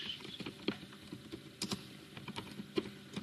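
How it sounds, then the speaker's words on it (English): Fingers type on a computer keyboard, close and clear, with quick irregular key clicks and a few sharper taps over about three seconds and no talk. "I just type in product post"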